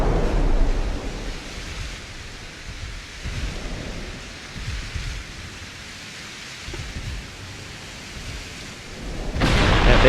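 Naval shells from enemy battleships splash and burst around a dreadnought in the naval combat game Ultimate Admiral: Dreadnoughts, a steady loud rumbling wash of impacts and roaring spray with a louder surge near the end.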